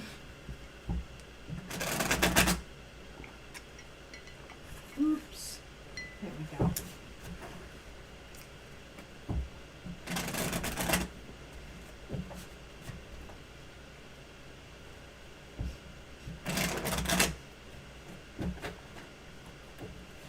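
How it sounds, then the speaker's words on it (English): Small tarot card deck being shuffled on a table, three short bursts of riffling cards spaced several seconds apart, with quiet rustles and handling noises between them. "have a small amount of space here for shuffling"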